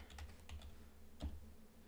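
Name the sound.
typing a command on a computer keyboard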